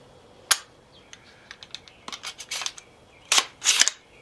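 An AR rifle with a binary trigger is dry-fired, producing sharp, close mechanical clicks and snaps in scattered bursts, some single and some in quick pairs, with no talk over them.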